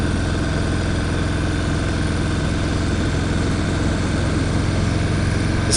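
A 2018 Harley-Davidson Breakout motorcycle engine rumbles steadily and loudly up close, a continuous throbbing drone heard on the move, with no voices.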